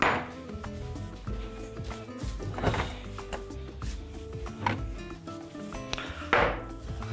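Kitchen clatter of a bowl being taken out and handled while making fried khachapuri with cheese: scattered close clinks, knocks and scrapes of dishes, fairly quiet and irregular.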